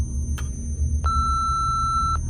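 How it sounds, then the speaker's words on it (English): An answering machine beep sounds as a single sustained electronic tone lasting about a second, clean and steady over a low rumbling background, preceded by a short click. "Leave a message at the beep."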